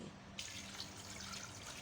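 Water poured into a cooking pot for yakhni pulao, a brief steady splashing trickle, close and moderately quiet, with no one talking.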